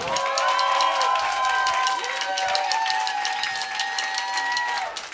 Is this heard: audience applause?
yes